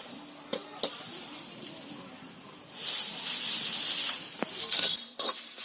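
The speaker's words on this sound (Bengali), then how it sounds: "এগুলোকে এখন শুকনো কড়ার মধ্যে দিয়ে একটু ভেজে নেব" Whole spices, including fennel, coriander, cumin and dried chillies, dry roasting in a hot kadai, giving a steady sizzling hiss with a few clinks and scrapes and a louder burst of crackle partway through.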